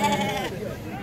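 A sheep gives one short bleat, close by, at a weekly livestock market in Morocco, with voices murmuring in the background.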